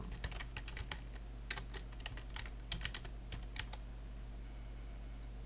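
Random typing on a computer keyboard: close, quiet clusters of rapid key clicks in irregular bursts over a steady low hum, alone without talk.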